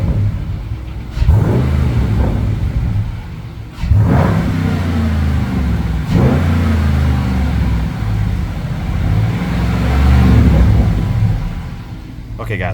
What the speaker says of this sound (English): I'll get some pops in the exhaust